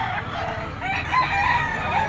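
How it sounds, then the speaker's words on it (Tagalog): A rooster crows nearby over a low background hum at a pet market in Bocaue, with faint clucking from other fowl around it. "karamihan ng manok dito ni Boss Hapon"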